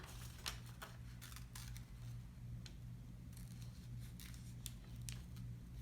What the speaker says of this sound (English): When you start cutting, you're gonna have to take your time. Get super close to your object and cut out their shape.